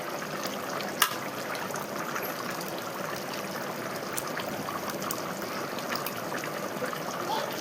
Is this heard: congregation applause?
no